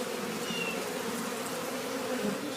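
Honey bees buzz around exposed comb in a bay window, a dense, continuous swarm hum that stays steady and close throughout.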